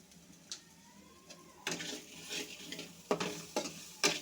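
Black cumin seeds frying in a pan, with a quiet sizzle and a few light taps at first, then louder close scraping stirs in bursts.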